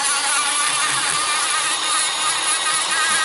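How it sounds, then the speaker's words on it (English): A rotary tool fitted with a round burr grinds into pine knot wood, giving a steady, loud high-pitched whine that holds without a break throughout. "I'm going to use a round burr"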